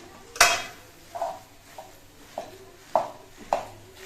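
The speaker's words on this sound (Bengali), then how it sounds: "এভাবে চিকেনটাকে আমি ম্যাশ করে নিই।" Minced chicken being mashed in a pan with a utensil: a few separate clanking knocks of metal on the pan, close and moderately loud, with quiet pauses between.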